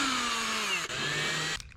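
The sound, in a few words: drilling holes with countersink drill bit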